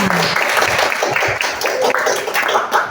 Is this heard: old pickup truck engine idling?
no